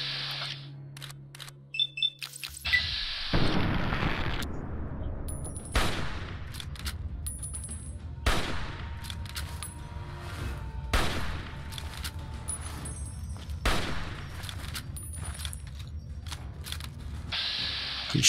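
Gunfire in a Fallout video game: repeated loud, sharp shots ring out at irregular intervals of a few seconds, each with a short mechanical clack and decaying tail, over a low steady rumble.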